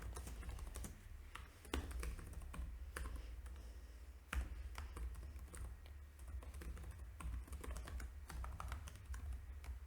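Someone types a BigQuery query on a computer keyboard with light, irregular clicking keystrokes and a few sharper taps, close and quiet over a low background hum, with no speech.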